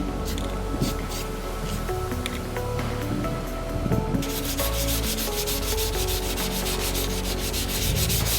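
240-grit sandpaper rubs dry over spray putty on a dented motorcycle tank, a close, continuous rasping with rhythmic back-and-forth strokes that grow brighter and harsher partway through.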